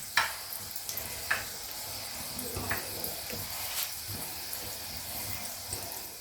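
Batter-dipped eggs frying in hot oil in a wok make a continuous close sizzle, with crackling bursts as each piece drops in, no speech.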